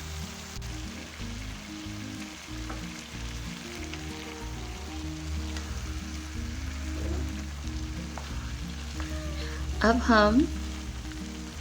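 Grated carrots frying in about three-quarters of a cup of oil with cardamom powder for gajar halwa, stirred as they cook, giving a steady low sizzle under background music, with a brief voice near the start.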